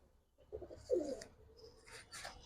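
Pigeon cooing at close range, a few soft throaty coo phrases from a high-flyer pigeon in a loft, with faint chirps and rustling between them.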